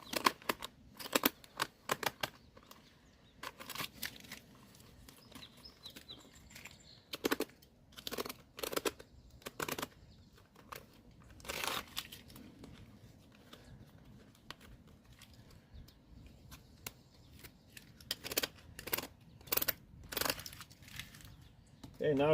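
Cellophane wrapping on firework cakes is slit and cut, giving repeated sharp crinkling and snipping bursts in an irregular rhythm over a low background murmur.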